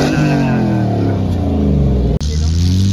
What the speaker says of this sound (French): Je sais pas ce qu'ils ont mis comme moteur tous dans leur 4x4